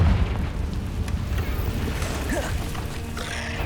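The Confringo fire spell goes off in a cave in Hogwarts Legacy, a deep rumbling boom followed by a rolling, crackling low roar that fades over a few seconds.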